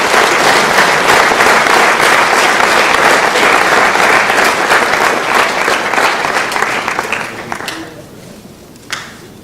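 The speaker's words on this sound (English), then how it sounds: "Let's give all these athletes a round of applause." Strong round of applause for student athletes at a school spring sports awards ceremony, dense steady clapping from a sizable crowd that fades out after about eight seconds, with one last stray clap near the end.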